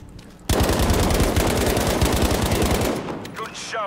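Sustained rapid automatic gunfire in the Battlefield V multiplayer open beta, loud and close, a continuous stream of shots that tapers off near the end as other game effects come in.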